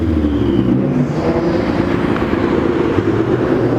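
Manual Nissan GT-R driving past at a cars and coffee supercar gathering, a steady loud low engine rumble and road noise close by with no talking.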